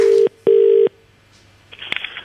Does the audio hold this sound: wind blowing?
no